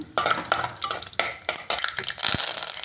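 A spoon scrapes and stirs in a metal pan as mustard seeds, urad dal and asafoetida fry in crackling, sizzling oil, repeated clinks and scrapes in quick succession.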